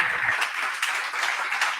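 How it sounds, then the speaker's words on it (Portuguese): Applause from a church congregation during a worship service, many hands clapping steadily in a reverberant room, fairly loud and sustained with no voices on top. "Dê um aplauso a Jesus."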